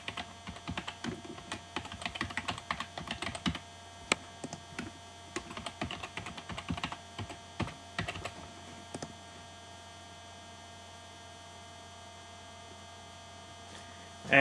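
Computer keyboard typing in quick irregular bursts of clicks over a steady mains hum, with the keystrokes stopping around nine seconds and only the hum continuing after that.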